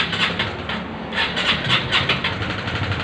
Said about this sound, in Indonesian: lalu kita starter.